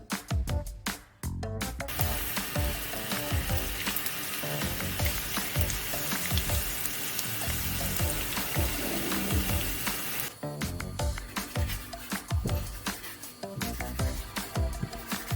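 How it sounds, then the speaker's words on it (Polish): Garlic browning in a pan, a dense, loud sizzle that runs almost the whole time, with sharper crackles and clatter near the start and end, close up and with no speech. "Na patelni rumienimy czosnek na złoty kolor."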